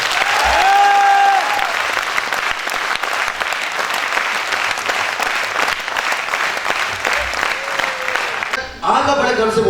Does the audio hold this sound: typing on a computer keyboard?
no